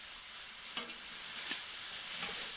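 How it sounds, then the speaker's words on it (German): Chopped onions and finely minced garlic fry in a pan for a lagman noodle dish, a steady close sizzle broken by a few light scrapes of stirring, with no talk. "Und natürlich umrühren und auch anbraten."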